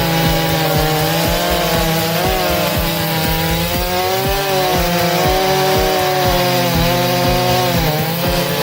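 Big Stihl MS-661 and MS-500i chainsaws roar at high revs while cutting into a massive log, a loud, continuous engine drone with the chain rasping through wood, no voices.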